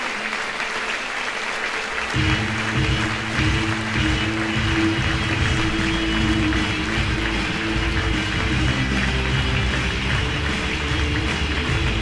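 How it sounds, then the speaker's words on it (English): Warm audience applause welcoming Professor Dr. Philipp Bagus to the stage, with steady clapping that swells in at about two seconds and then holds dense and loud through to the end. "Please welcome with a warm round of applause Professor Dr. Philipp Bagus."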